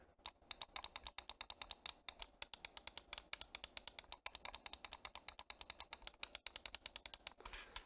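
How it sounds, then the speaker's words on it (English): Repeated left and right button clicks on a HyperX Pulsefire Haste 2 wired gaming mouse, a long run of sharp, close, crisp clicks in quick irregular succession with no talking. "Now let's hear the clicks. First, we're going to go with the left and right click."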